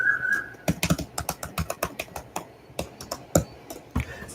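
Quick, uneven keystrokes typing an email address on a computer keyboard, close and crisp, with short pauses between bursts of taps and no talking.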